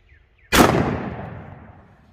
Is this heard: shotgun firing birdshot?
yes